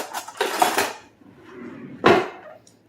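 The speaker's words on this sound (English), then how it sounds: "let me grab a spatula" Metal kitchen utensils clink and rattle as a spatula is pulled from among them while a homemade German chocolate cake is being frosted, with a burst of clattering, a pause, then one more sharp clank.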